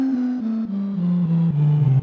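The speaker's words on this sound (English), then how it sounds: "we build a digital instrument that I can play with an electric keyboard the same way we would play any other synthesizer" Digital keyboard instrument built from sampled coffee sounds, playing a smooth descending melodic line of sustained synth-like tones, close and fairly loud, with no voices.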